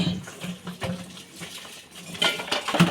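A metal lid comes off a cooking pot of fish curry made with tengra fish, drumsticks and bitter gourd. Soft clinks and a couple of sharp metallic knocks sound close by over quiet kitchen bubbling.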